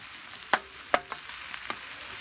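Tomato paste fries in hot oil with a steady, close sizzle, and a spoon stirs and clicks against the pan a few times. No voices.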